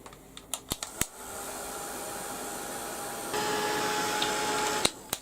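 Hair dryer blowing over Starlight craft paint to dry it quickly, a steady whooshing hum starting after a few clicks, stepping up louder midway, then cutting off with a click.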